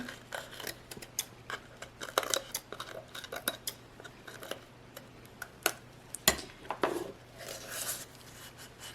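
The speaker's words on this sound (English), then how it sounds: "we're going to take our scissors and trim it up" Scissors trim a paper napkin glued onto a jewelry container, giving a string of faint, irregular snips and light clicks close by, with no talking.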